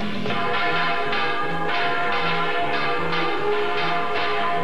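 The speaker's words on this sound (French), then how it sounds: "3 grands cerveaux essaient de faire sonner une des cloches de l'église" A church bell in Spain rings steadily, its strikes evenly spaced about every half second with a long shimmering resonance between them, loud and alone.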